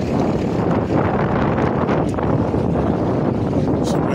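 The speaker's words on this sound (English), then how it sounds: "It's a windy day out here." Steady wind buffets the microphone on a New York City street with a continuous low roar and rumble, loud and unbroken for the whole stretch.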